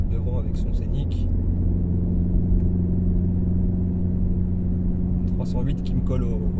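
A Ford Focus ST with 280 hp holds a loud, steady engine drone and road rumble from inside the cabin while pulling out to overtake, with a voice talking over it.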